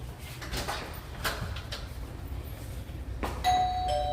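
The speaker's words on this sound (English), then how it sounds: "So, we have doorbell out here." A house doorbell chimes near the end after some soft shuffling and handling noises, its clear tone ringing on steadily at moderate volume during a home walkthrough.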